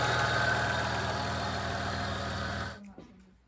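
Audi S4 2.7T with a stage 3 tune idling steadily close by with a thin fuel pump whine running over it, then the engine shuts off and leaves near silence.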